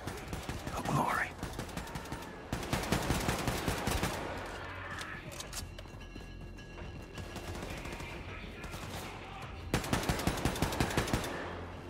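A heavy gun in the shooter game Wolfenstein II fires in rapid automatic bursts, loud rattling volleys that stop and start, with quieter stretches of game noise and a soft whispering voice between them.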